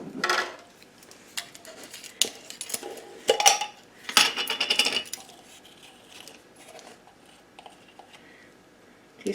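Metal teaspoons clink and clatter in a home kitchen while measuring salt and baking soda for sweet bread, in several sharp bright bursts, close and loud at first, then thinning to quieter occasional taps.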